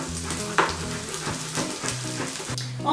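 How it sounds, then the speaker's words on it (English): Tofu browning in a pot, sizzling and frying steadily throughout, close and fairly loud, with a few light clinks and thumps of the pan. "So we're just gonna leave them to just brown up on each side"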